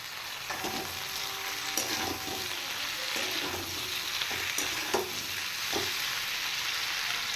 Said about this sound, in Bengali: এবার আমি ইলিশ মাছের মাথাগুলো দিয়ে দিচ্ছি